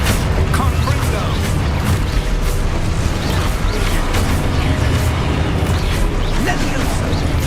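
Fiery Confringo spell blasts from the Hogwarts Legacy video game burst amid continuous loud combat noise, dense booms and crashes layered over a spoken voice.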